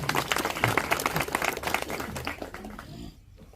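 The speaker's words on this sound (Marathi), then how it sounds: "सर्वांना विनंती करतो की त्यांच्यासाठी जोरदार एकदा टाळ्या वाजवायचे" Enthusiastic clapping from an audience at a small community meeting, dense and steady for about three seconds before thinning out at the end.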